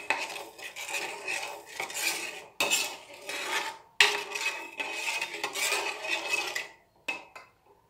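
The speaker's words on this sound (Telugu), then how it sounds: "ఇప్పుడు ఇదంతా మిక్స్ చేస్తూ ఉండండి." A spoon stirring badam milk with added sugar in a metal pot, continuous close scraping and clinking against the sides, steady and fairly loud with brief pauses.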